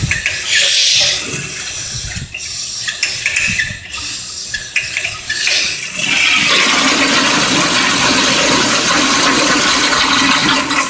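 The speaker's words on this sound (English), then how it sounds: "Let's flush this one more time." A vintage American Standard toilet in a beach bathroom flushes with a loud, steady rush of water that swells and keeps running through the second half, the bowl refilling close by with no talk.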